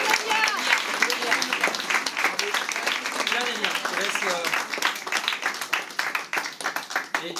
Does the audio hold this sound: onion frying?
no